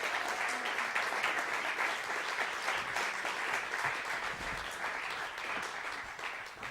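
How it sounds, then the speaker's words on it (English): Sustained audience applause fills the room, a dense steady clatter of many hands clapping at close range and holding even for several seconds without any talk over it. "Give him a big round of applause."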